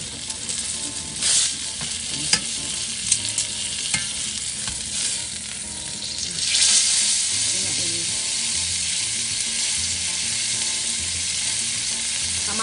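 Steak sizzles steadily in a frying pan just after being flipped, a continuous close crackle and hiss with a few brief clatters of the pan or utensil early on.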